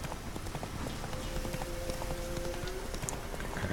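Horse hooves clip-clopping on a road in The Witcher 3: Wild Hunt, a quick continuous patter of hoof beats over a dense, rain-like background.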